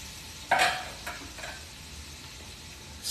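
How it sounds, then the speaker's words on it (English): Onion, green bell pepper and celery hit a hot pot for Cajun red beans and rice. There is a soft clatter and hiss at first contact, and then a faint, low sizzle continues with a few light stirring scrapes. "So now I still got the pot, still sizzling"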